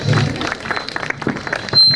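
Audience applause at a fashion show with catwalk presentations, a scattered patter of claps spread across the crowd, rising a little toward the end and mixed with a little background talk.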